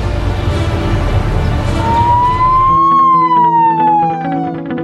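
Ambulance siren in a Cali radio advert, a loud wavering electronic wail that rises and falls over a few seconds, heard alone over a low background bed.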